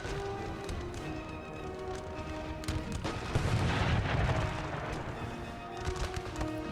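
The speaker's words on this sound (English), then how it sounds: "The South's doing something similar to the North. They're firing behind their own troops." Musket volleys and artillery roar through an American Civil War battle, a dense continuous crackle of distant gunfire with deeper booms swelling midway, steady and somewhat far off.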